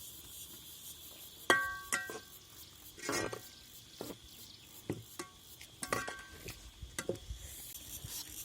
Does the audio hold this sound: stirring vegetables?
yes